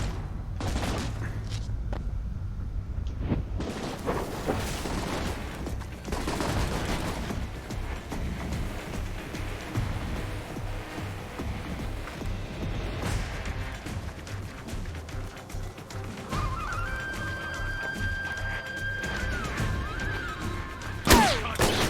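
Video game gunfire while tracking a terrorist cell in Rome, sustained rattling shots and booms throughout, fairly loud, with a steady tone rising late in the mix.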